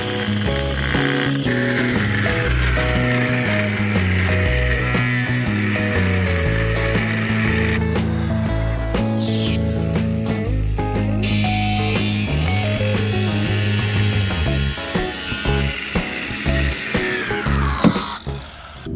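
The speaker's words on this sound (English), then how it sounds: "we decided it was time to cut the sleeve of the rudder bearing off the rudder shaft" A power tool cuts loudly and continuously through a glued sleeve on a race boat's rudder shaft, its pitch dropping and recovering under load, with no talk.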